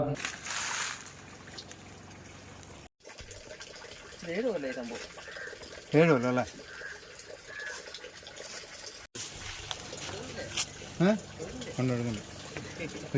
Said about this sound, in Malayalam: സ്വാഭാവികമായി നിറഞ്ഞൊഴുകുന്ന കുഴൽക്കിണർ നാടിനാകെ അത്ഭുതമായി മാറുകയാണ്